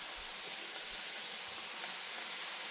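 Potatoes going into a hot skillet with pork chops, giving a steady broad hiss and sizzle of hot fat, loud and close, with a few faint thumps underneath and no talking.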